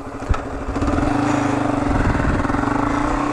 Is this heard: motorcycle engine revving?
yes